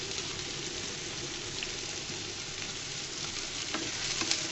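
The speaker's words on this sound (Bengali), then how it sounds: "পাঁচফোড়নটাকে সুন্দর করে আমি ভেজে নিব।" Panch phoron spices fry in hot oil in a pan for achari brinjal pickle, giving a steady, close hissing sizzle with small crackles throughout, with no voices.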